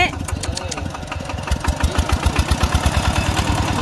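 Vehicle engine chugging in fourth gear in a rice field, a rhythmic mid-pitched throb that grows steadier and slightly louder, with people talking over it.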